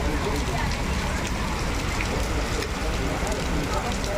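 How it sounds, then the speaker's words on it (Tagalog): Steady, heavy rain pours down continuously at Batu Caves, a dense hiss of drops drumming on surfaces throughout. "Malakas ang ulan ulit."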